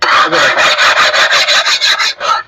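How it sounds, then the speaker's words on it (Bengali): A stone is scraped back and forth against a Khadim Ceramics stone-body ceramic wall tile, giving about ten loud, rhythmic rasping strokes in quick succession. "আমরা সরাসরি আপনাকে পাথর দিয়ে ঘষে দেখাবো"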